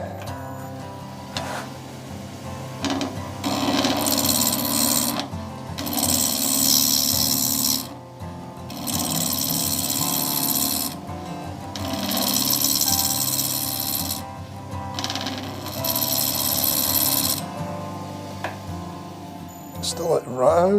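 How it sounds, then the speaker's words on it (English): A wood lathe turns a hybrid resin casting, a steady motor whir with repeated bursts of harsh, loud scraping as the tool cuts, separated by brief pauses. "Come on, lathe. It's not liking that."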